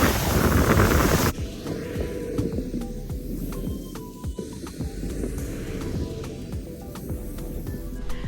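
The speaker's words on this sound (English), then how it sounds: "the wind hurts my face" Cold winter wind blows hard across the microphone at a snowy Indiana park used for sledding and hiking, a loud buffeting rush that is strongest at the start and then settles into steady gusting with no voices.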